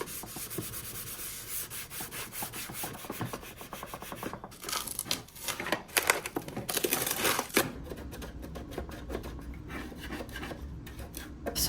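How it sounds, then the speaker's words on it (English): A wooden top of a vintage jewelry box being sanded by hand, close scratchy rubbing strokes in quick repeated bursts, loud and continuous with no talking. "I think sanding it was definitely the move."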